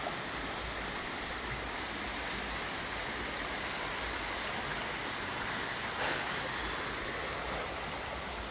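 A river flowing at a campsite, giving a steady, moderately quiet rushing wash of water that holds even throughout with no voices.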